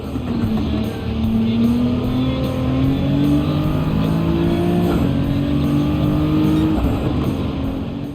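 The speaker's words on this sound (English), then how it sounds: "Another technical area that Gran Turismo 7 excels in is the sound of cars." Racing cars in the Gran Turismo 7 video game roar loudly and continuously, the engine tone climbing steadily through the gears as a car accelerates, with hints of tire noise throughout.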